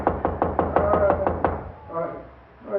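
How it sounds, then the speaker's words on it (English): A series of eight firm, evenly spaced knocks on a door as a radio drama sound effect, loud and close, followed by a brief pause and a voice calling out. "Please open the door, Mr. Jones."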